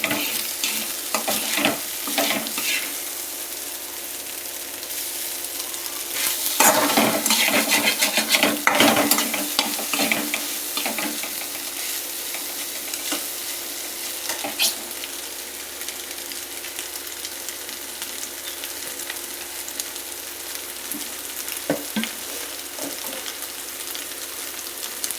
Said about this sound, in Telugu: ఇదిగోండి, ఇలా ఫ్రై చేసుకోండి.